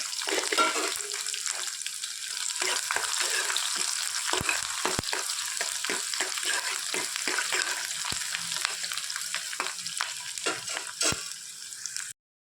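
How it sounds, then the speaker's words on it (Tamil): Garlic and chopped onions fry in a pan for brinjal tamarind kuzhambu, a steady, close sizzle running throughout, punctuated by frequent clicks and scrapes of stirring until it cuts off abruptly near the end. "பூண்டு நல்லா கொஞ்சம் செவந்து வரட்டும் கட் பண்ணி வச்சுருந்த வெங்காயத்தையும் போட்டுக்கலாம்"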